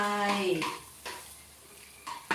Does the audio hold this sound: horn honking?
no